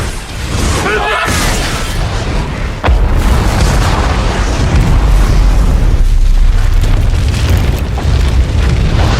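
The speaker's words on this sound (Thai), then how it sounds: "เกิดการระเบิดขึ้นอย่า งรุนแรง" A sudden deep boom bursts out as the Deepwater Horizon oil drilling rig explodes, then a heavy, roaring rumble of fire keeps going loud and broad.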